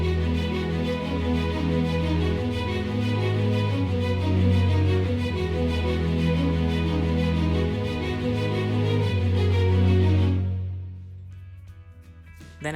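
Strings layered from Labs, Edirol Orchestral and SL Strings play together as a dense, continuous orchestral swell with a strong low end, loud and unbroken for about ten seconds before fading out near the end, with no talking.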